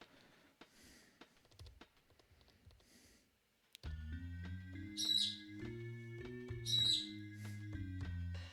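A pet bird gives a couple of short, high chirping calls in the background of a room, faint against synthesizer music playing loudly nearby.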